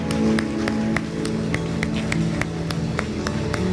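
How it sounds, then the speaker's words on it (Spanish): A church congregation claps in a steady, even rhythm, sharp hand claps repeating about three times a second over a sustained musical tone. "Dar un aplauso al Señor, sí."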